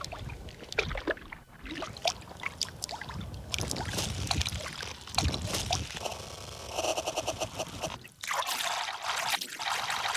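Water-like textured sound played back from a Morphogene granular synth module, a dense shifting wash of trickling, splashing grains and tonal flickers, fairly loud and continuous with a brief dropout near the end.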